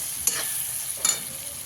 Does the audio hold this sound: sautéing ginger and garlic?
yes